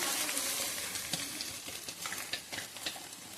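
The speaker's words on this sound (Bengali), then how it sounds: "পেঁয়াজটা আমাদের লাল হয়ে আসছে, ফ্রাই হয়ে গেছে, এখন শাকটা ছেড়ে দেব।" Kolmi shak greens fry in a pan with browned onions, giving a dense, steady sizzle broken by scrapes and clicks of stirring, close and alone.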